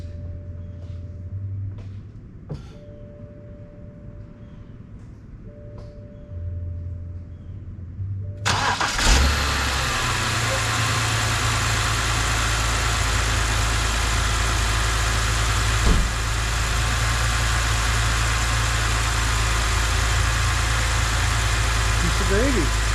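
A BMW 528ix cranks and fires, then settles into a steady, loud idle that continues to the end, after a few chimes and clicks inside the car; a voice speaks briefly.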